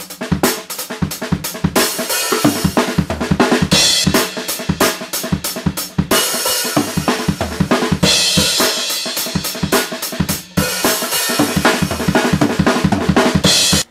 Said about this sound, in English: you're just going to double smack this bass at the end with a cymbal strike and then back to the drum beat